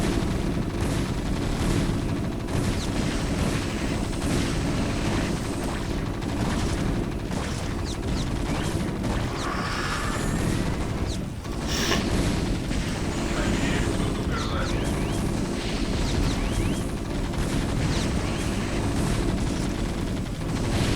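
Continuous gunfire and heavy booms in the video game StarCraft rumble densely throughout, a constant barrage of shots and explosions without a pause.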